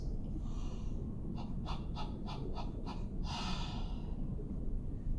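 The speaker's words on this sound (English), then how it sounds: "I want you to pant like a hot dog." A quick run of short, breathy pants, about seven in a row, followed by a longer exhale, over a steady low background hum.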